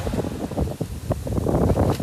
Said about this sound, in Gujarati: મોજા જો આવે.